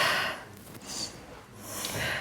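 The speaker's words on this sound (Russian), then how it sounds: "Дышите, пожалуйста, просто берем вдох и выдыхаем." Deep in-and-out breaths during a vocal breathing exercise, with broadband breathy hiss on the inhale and exhale, close and fairly quiet, with no talking.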